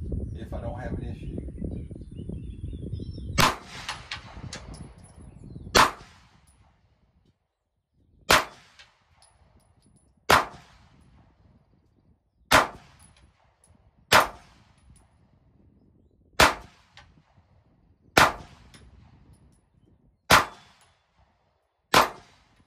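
Single pistol shots from a Canik handgun fitted with a new recoil spring, fired one at a time at steady intervals of about two seconds, sharp and loud, with some handling noise at the start.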